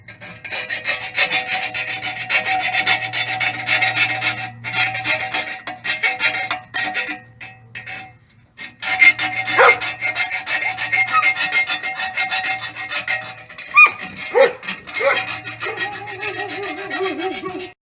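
Metal is filed and cleaned up with steady, rasping strokes while a muffler is fitted to a 1998 Pontiac Sunfire, a long run of close scraping with a few short pauses and no talk.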